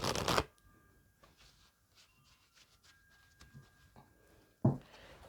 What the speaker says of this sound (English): Let me just give the cards a really good shuffle.